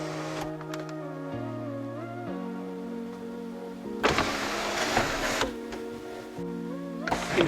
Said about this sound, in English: Here's our tilting sunroof.